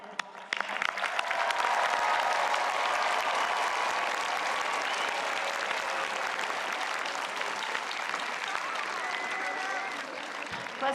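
Loud, sustained applause from a large audience at a university commencement ceremony, building within the first two seconds and holding steady throughout, with a few cheers mixed into the dense clapping.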